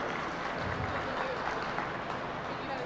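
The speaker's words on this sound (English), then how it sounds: "give one more round of applause to these kids as well as their parents and families" At a youth goat show, the crowd applauds the young exhibitors and their families, a soft, steady wash of clapping that sounds fairly distant in a large arena.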